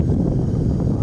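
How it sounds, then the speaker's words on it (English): Strong wind roars steadily and close into the microphone outdoors as a storm approaches, a dense low rumble with no voices. "it's getting real windy"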